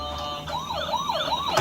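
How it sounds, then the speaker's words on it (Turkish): A toy police siren wails with a rising and falling electronic tone, close and steady, over a faint background hum. "Polis arabası."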